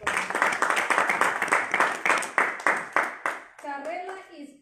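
An audience claps in rhythmic unison for a CSR award recipient, with distinct claps at a steady beat that stop abruptly, followed by a short stretch of voice.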